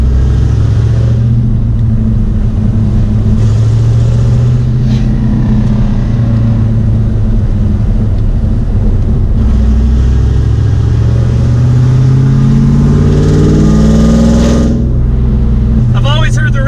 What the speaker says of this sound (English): here it's just powering through with that V8 power in 4th gear